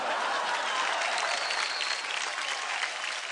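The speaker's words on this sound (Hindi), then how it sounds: "खत्म हो गया, तालियां।" Studio audience applauding after a child's singing performance on a TV singing contest, a loud, continuous wash of many hands clapping throughout, with no voices over it.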